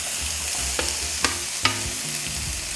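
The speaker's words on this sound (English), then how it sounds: "when it's heated, add the sausages and onion to the pan" Sausages and onion hitting hot oil in a pan for a Korean stir fry, giving a close, steady sizzle with a few sharp spatter pops and stirring knocks.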